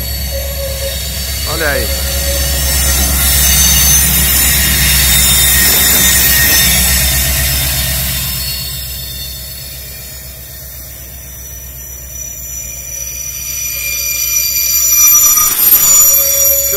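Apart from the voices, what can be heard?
VLi train passing, wheels squealing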